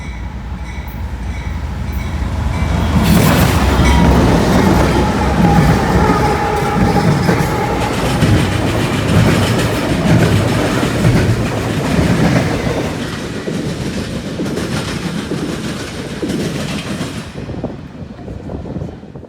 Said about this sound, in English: The first was a CSX intermodal with an incredibly short train,